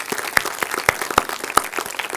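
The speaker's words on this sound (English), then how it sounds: "If you give Gemma a round of applause, I think, as well." A small audience at an education event claps for a staff member, a brief burst of close, distinct hand claps in an uneven rhythm.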